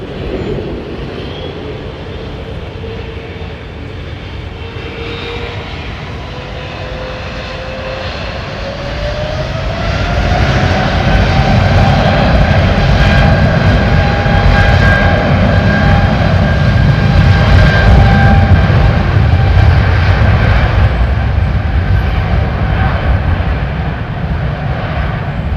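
A jet airliner powers up and takes off at London Heathrow Airport, engines rising from a steady whine to a loud, deep roar whose pitch climbs as it accelerates, then holds a heavy, sustained rumble.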